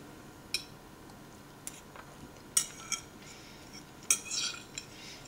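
A fork clinks against a jar or dish while mashing home-canned food, giving a few sharp, quiet metallic taps and scrapes spaced irregularly over near silence.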